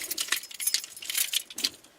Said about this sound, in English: tried matching keys, cut keys, tried wiggling the original key.